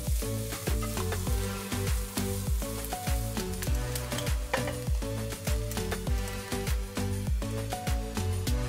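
Beef tongue browns in a hot pan, sizzling and frying steadily with repeated clinks and scrapes of stirring throughout, no voices.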